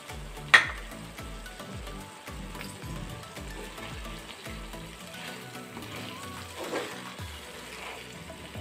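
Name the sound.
stirring frying chicken with mint and coriander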